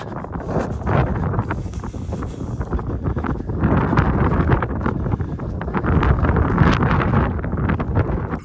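Gusty wind buffets the microphone on an open Peak District moorland walk near Redmires Reservoirs, a loud continuous roar that swells and surges with no voices.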